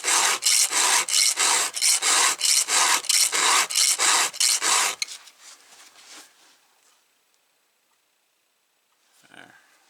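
A hand file sharpens a chainsaw chain in about a dozen loud, even rasping strokes, then stops, leaving a few faint scrapes and near silence.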